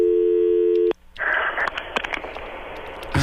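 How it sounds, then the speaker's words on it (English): Phone call tone that cuts off and gives way to a ringtone, a steady electronic tone for about a second, a brief pause, then a busier musical ring with clicks, heard close over a line. "Let me call his ringtone."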